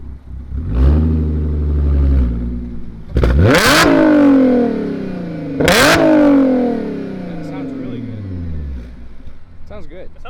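Supercharged Dodge Hellcat V8 revving while the car rolls, the engine climbing in pitch through two sharp, loud surges with crackling overrun between them, up close, as people talk over it.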